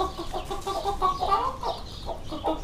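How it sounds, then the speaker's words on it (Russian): Hens cluck softly with their chicks in a small petting zoo enclosure behind wire mesh, a busy run of overlapping clucks and peeps at moderate distance, with no talk. "Курочки с цыплятками."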